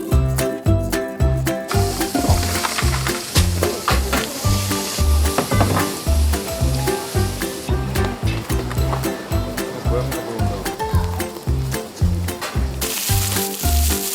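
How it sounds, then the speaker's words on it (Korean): Pork belly sizzles on a grill at an outdoor neighbourhood gathering, a dense crackling fry layered with rhythmic low thumps, likely backing music, running steadily throughout. "지글지글 삼겹살 굽는 냄새에 하나둘씩 동네 사람들이 모이고"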